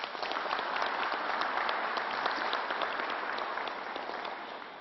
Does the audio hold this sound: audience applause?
yes